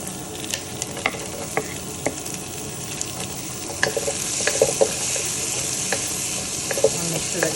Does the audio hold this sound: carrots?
yes